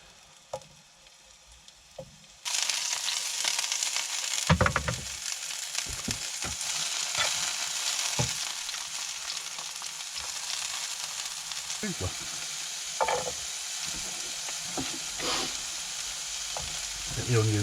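Mushrooms sizzle in a pan in a van kitchen, a steady close crackle starting abruptly after a quiet opening, with intermittent scraping stirs and knocks throughout.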